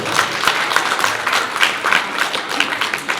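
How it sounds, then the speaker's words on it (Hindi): An audience claps at a Jain religious ceremony honouring the officiating priest, a dense, lively burst of applause from many hands close by, steady and sustained with slight swells. "इन प्रतिष्ठाचार्य के सम्मान में जो जोर तालियां बजाएं"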